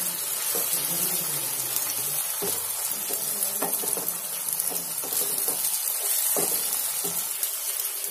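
Ginger garlic paste sizzling and frying in a pan for dhaba-style chicken, a steady close crackle with scraping stirring strokes, alone without talk.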